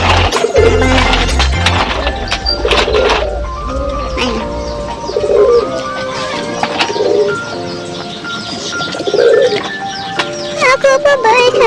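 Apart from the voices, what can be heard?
racing pigeons cooing on arrival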